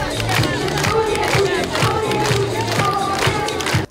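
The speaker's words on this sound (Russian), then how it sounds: "Первоклассники под бурные аплодисменты." At a school opening ceremony, a large crowd greets first-graders with loud, continuous applause mixed with cheering and shouting, a dense wall of sound that holds steady until it cuts off at the end.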